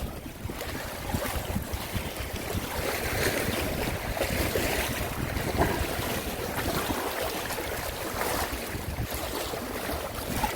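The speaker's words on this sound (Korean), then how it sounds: "바람 소리 때문에 잘 안 들립니다." Strong gusting wind at a breakwater buffets the microphone continuously, a dense roaring rush with faint water sounds beneath and no clear voices.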